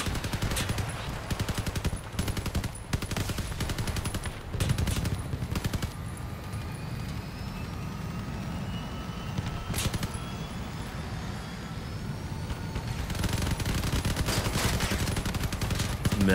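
Rapid machine-gun bursts from an online combat video game rattle almost continuously, loud and close, with sharp individual shots standing out among the layered game noise.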